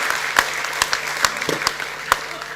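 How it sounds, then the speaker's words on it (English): An audience at a sports ethics and leadership summit's opening keynote claps for a speaker, a short burst of scattered, fairly sparse applause with distinct individual claps, loud and near. "Can we give him an extra round of applause, please?"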